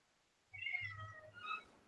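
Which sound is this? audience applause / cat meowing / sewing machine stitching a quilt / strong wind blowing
cat meowing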